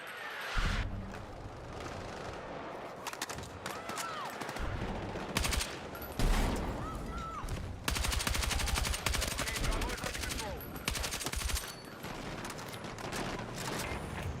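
Battlefield 6 gunfire: sustained automatic bursts and single cracks from close and mid distance, dense and loud across most of the stretch, with brief lulls between volleys and a voice talking at times.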